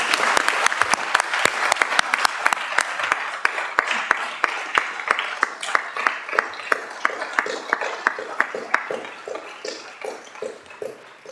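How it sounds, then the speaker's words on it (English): Applause at a Dorset full council meeting, a room of hands clapping in a dense burst that thins toward the end into scattered individual claps. "Round of applause, please."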